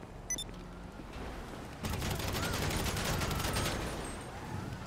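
Rapid bursts of gunfire in GTA Online, a dense fusillade of shots that starts quieter and then grows loud and continuous after a short lull, with no talk over it.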